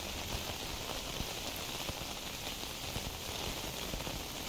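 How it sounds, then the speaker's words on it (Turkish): Steady rain falls in the video game S.T.A.L.K.E.R. Dreamcatcher, a dense, even hiss of drops pattering on surfaces, continuous and fairly faint, with no talk over it. "Yağmur sesi sizi rahatsız etmesin istedim ancak yağmur dinmiyor abi."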